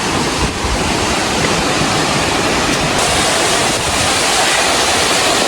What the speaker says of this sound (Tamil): ஆகாயகங்கை வாட்டர் ஃபால் பா சரியாக இருக்குது.